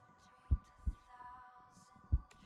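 Video-game heartbeat effect, low muffled thumps in pairs pulsing slowly and prominently over a faint steady musical hum.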